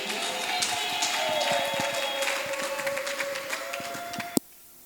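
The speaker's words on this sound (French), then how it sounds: "Applaudissons fortement." Audience applause at a preschool teaching-guides launch event, a steady wash of clapping from a crowd that carries on for several seconds before cutting off abruptly.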